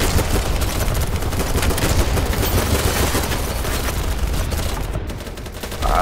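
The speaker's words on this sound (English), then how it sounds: "Gunfire everywhere I go." Gunfire from the video game Battlebit Remastered: a dense, continuous rattle of overlapping automatic shots and bursts, loud and unbroken throughout with no speech.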